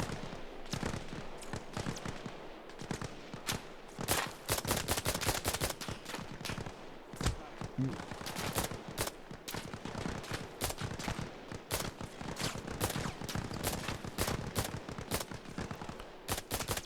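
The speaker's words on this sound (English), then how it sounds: "But when you get three of them firing at you, things do change a little bit." Rapid bursts of NPC gunfire from several shooters in the video game Arma Reforger crackle almost without pause, dense overlapping shots and volleys filling the whole stretch at close to mid range.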